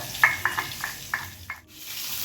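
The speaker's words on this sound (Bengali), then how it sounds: "এবার দেখুন মাছটা প্রায় ভালোই ভাজা হয়ে এসছে" Sardine fish frying in a pan, a soft continuous sizzle with a handful of light scraping or tapping sounds from turning the fish, close and moderately quiet.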